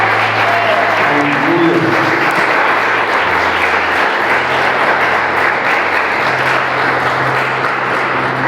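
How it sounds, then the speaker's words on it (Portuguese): A church congregation applauds in praise, a dense continuous roar of clapping throughout, with a voice briefly exclaiming over it. "Vamos aplaudir nosso Deus"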